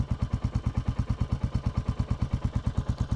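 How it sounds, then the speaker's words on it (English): A Royal Enfield Classic 350 single-cylinder engine thumps steadily at a fast, even rhythm, loud and close, with no talk over it. "it's good to get a wee quick run, just try the bike"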